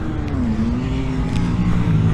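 A car laps Snetterton race circuit, its engine droning loudly and steadily as it passes with a gently shifting pitch, heard from trackside without speech.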